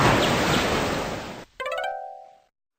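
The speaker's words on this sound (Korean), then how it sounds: "강풍에 밀린 파도가 치솟아 올랐고 둥지가 있는 바위까지 물이 밀려들었어요" Stormy sea waves surge in a sound effect for a children's story, a loud, close rush of broadband surf that swells and then fades out at the end.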